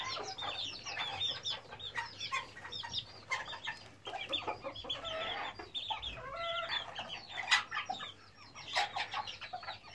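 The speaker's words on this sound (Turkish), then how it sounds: "Horozumuz kendini bayağı bir belli etti." A backyard flock of chickens clucks and squawks busily while a rooster crows among them, a dense, lively jumble of bird calls close by and fairly loud, with no talking.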